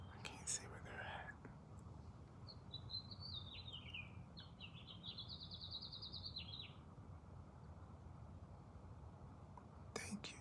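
Birds chirping and singing outdoors, a few bright song phrases trailing across the middle of the clip over a steady background hiss, with no other sounds standing out.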